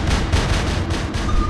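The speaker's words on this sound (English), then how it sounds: "My chain guns were overpowered, my friend." Chain guns rattle off in the War Robots game, a steady dense burst of rapid automatic fire that runs without break for the whole short stretch, loud and close.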